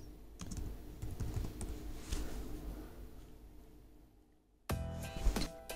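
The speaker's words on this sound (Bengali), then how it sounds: "এত জিপ কোড লিখে সার্চ করেন।" Fast typing on a computer keyboard, soft steady clicking through most of the clip, followed by a louder burst of key taps near the end.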